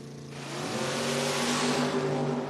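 Drag race cars launch and accelerate at a Door Wars drag racing event. Engines roar with rising revs, growing louder and denser over a couple of seconds.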